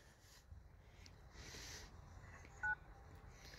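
A telephone keypad gives one brief dial tone from a single keypress, faint against a quiet room's background hiss.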